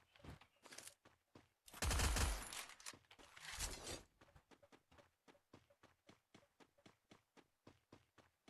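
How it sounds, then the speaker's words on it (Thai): Gunfire in the Free Fire video game, a dense rapid burst of shots for about two seconds, then a long run of evenly spaced lighter shots or steps, all fairly quiet. "ใส่หูฟังผิด ข้างหรือเปล่าเนี่ยทำไมได้ยินเสียงปืนแปลก"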